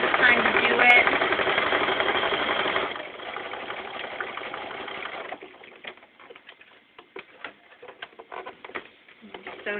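A sewing machine stitches a seam on a T-shirt quilt, running in a steady, busy whir for the first few seconds, then thinning into lighter, intermittent mechanical ticking and clatter near the microphone.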